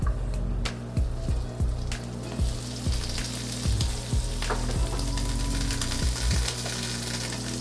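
Butter melting and sizzling in a hot pan over medium-high heat for a chicken mushroom fettuccine, a steady fry hiss broken by regular low thumps and clatter, no talking.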